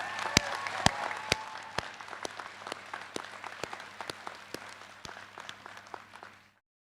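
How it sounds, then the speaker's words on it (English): Graduation audience at the 2021 Harold Ferguson High School ceremony applauding graduates and staff, a steady wash of clapping with sharp individual claps standing out, fading away near the end. "Please help our graduates and I give the staff at Harold Ferguson High School another well-deserved round of applause."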